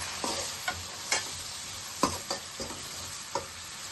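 A spoon scrapes and stirs egg fried rice in a pan over a soft sizzle after soy sauce and vinegar go in, making a few separate light clacks against quiet background hiss, with no talking.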